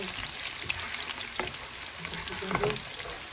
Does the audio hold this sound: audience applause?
no